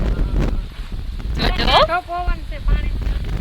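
Gusty outdoor wind rumbles and buffets the microphone in a steady low roar, with people talking over it.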